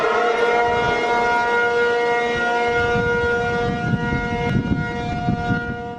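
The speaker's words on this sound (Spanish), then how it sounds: "las sirenas antiataque sonaron en todo Taipei" Civil defense air raid sirens wail steadily across Taipei during an attack drill, a loud sustained tone held throughout with no talk over it.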